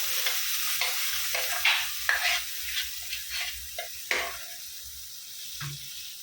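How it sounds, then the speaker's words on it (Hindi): Spice masala being stirred and fried in a pan for a Konkani-style fish curry, with close scraping strokes of the spoon over a continuous soft sizzle. "अभी ये मसाला डालेंगे और अच्छे से भूनेंगे इसको,"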